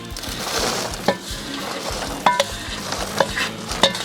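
A spoon stirs popcorn coated in Nerds candy and sugar in a bowl, a busy rustle with a few sharp clinks against the side, close and fairly loud, with no voices.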